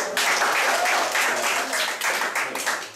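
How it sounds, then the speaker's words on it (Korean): Church audience bursts into applause during a Korean sermon on missions, a few seconds of lively clapping that swells and then fades, with some voices mixed in. "박수!"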